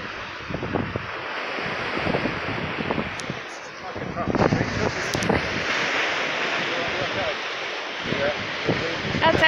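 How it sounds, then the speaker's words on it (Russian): Rough Atlantic surf along an English seafront promenade crashes and rumbles continuously, mixed with gusty wind buffeting the microphone; a voice speaks briefly over the roar. "Море волнуется сегодня у нас. Океан, вернее."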